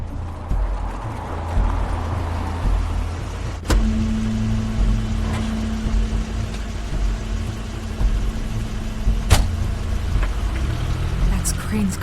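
Crane's car pulls up in the video game The Wolf Among Us, a steady engine hum with a low droning tone and a couple of sharp clicks or thuds over continuous background noise.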